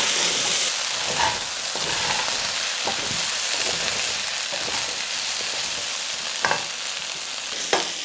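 Waxy potato chunks fry in a pan with a steady, dense sizzle and a few sharp stirring scrapes, close and continuous, no voices.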